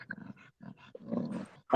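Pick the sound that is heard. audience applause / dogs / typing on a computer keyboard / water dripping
dogs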